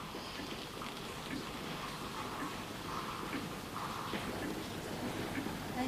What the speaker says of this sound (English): I think the rain is easing off a little.